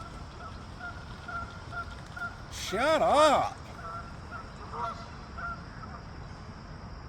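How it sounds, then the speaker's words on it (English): A short burst of loud, nearby goose honks in a quick series, with a person shouting over it amid quieter background calls. "I hate geese. They're so annoying."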